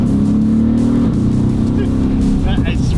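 A 1200 hp Mercedes-AMG engine build revving loudly and close by, a sustained throaty roar at light throttle that rises and falls, with people talking over it.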